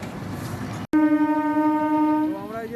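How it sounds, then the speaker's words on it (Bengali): A train passes at Baruipur station, a loud steady rumble with a long sustained horn blast starting after a brief dropout and running to the end, close and continuous. "অটো থেকে নেমে এই যে ট্রেন যাচ্ছে।"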